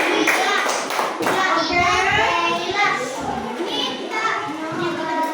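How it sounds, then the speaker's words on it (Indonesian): Schoolchildren in an Indonesian classroom clap together for a group that has just presented its orange ornament work, a busy run of overlapping hand claps and children's voices lasting several seconds. "Tepuk tangan kelompok 3"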